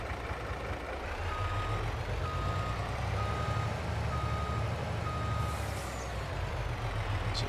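Steady repeating reversing beeps from a vehicle backing up in a farming simulator game, evenly spaced over a continuous low engine rumble.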